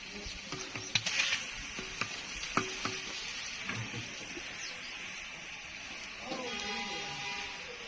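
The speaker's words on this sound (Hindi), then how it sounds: "प्याज हमारे भून चुके हैं, तो यहाँ पे अदरक लहसुन का पेस्ट इकट्ठा है, तो ये इसमें मैं डालूंगी।" Ginger garlic paste sizzles in a pot of fried onions for a degi beef korma, a soft steady frying hiss with scattered stirring clatters and taps, fairly quiet throughout.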